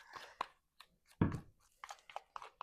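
Soft, sticky slime squished in quiet close-up bursts, one louder wet squelch in the middle followed by several short crackly presses.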